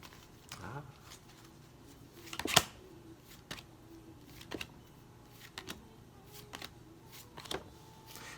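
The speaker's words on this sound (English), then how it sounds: "I'm trying not to shuffle my deck too hard on the table" A tarot deck is shuffled by hand on a table, producing soft riffling rustles and scattered sharp taps and clicks at irregular intervals, fairly close and quiet.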